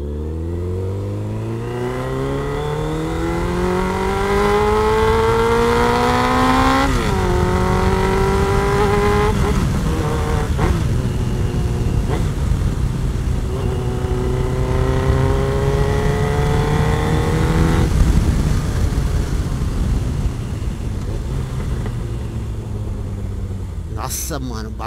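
A Suzuki RF900R motorcycle running a straight pipe with no muffler revs hard and close by, its loud raw exhaust climbing and falling through several throttle blips over a steady rumbling idle, with a voice speaking over it.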